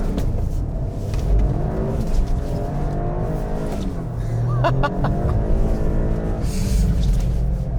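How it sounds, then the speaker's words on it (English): A 2023 Toyota GR Corolla GTS slides through a chicane on aggressive tyres, its engine a loud, steady rumble from inside the cabin with brief higher tyre and engine notes midway. "There you go, big slide through the chicane"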